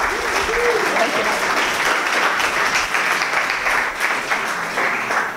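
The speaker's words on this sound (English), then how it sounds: "Round of applause for these guys." A crowd at a Q&A session applauds steadily and loudly throughout, while a voice speaks over the clapping.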